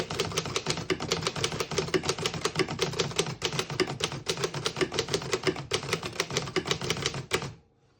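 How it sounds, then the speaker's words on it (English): Rapid, evenly paced keystrokes clack on a 1928 Underwood Four Bank portable typewriter, close and crisp, continuing steadily for several seconds before stopping abruptly. "Very nice typing machine."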